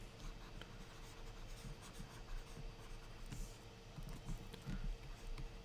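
Chalk or pen writing on a board during a quantum mechanics lecture, heard as quiet, irregular scratches and taps in a soft, close stream with no talk.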